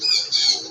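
An African lovebird gives a short, shrill, harsh squawk in two quick bursts, close and clear with no other sound.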